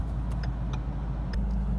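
A Ford Mustang idles at a traffic light while the car has a transmission problem. A low, steady engine rumble fills the cabin, with a few faint ticks above it.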